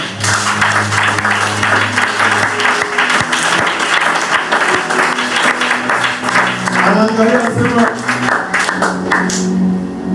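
A church congregation breaks into sustained applause in a worship service, a dense wash of clapping over about ten seconds with voices mixed in beneath it.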